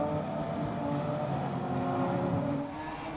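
A Radical SR10 race car drives on the Silverstone circuit, its engine holding a steady, loud drone throughout with a slight fade near the end.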